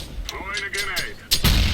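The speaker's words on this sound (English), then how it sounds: "Throwing a grenade." A grenade thrown in the shooter CS:GO: light bouncing clinks, then a sudden loud close explosion with a heavy rumbling tail, under faint voices.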